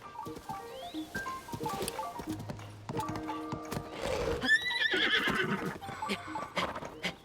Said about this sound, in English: I was just riding a horse this time.